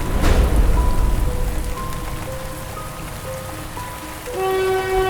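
Steady rain pours down on surfaces near a railway line at night, with a low rumble of distant thunder at the start. Sustained tonal notes sound over the rain toward the end.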